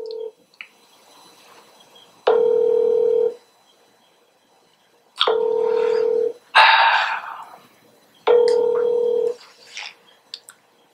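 A telephone ringback tone repeats three times, each steady one-second beep separated by pauses, with a brief muffled voice between rings.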